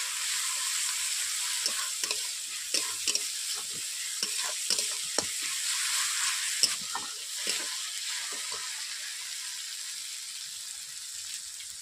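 Ginger-garlic paste sizzles and fries with browned onions in a pan, a steady loud hiss broken by repeated sharp scraping stirs, with no voices.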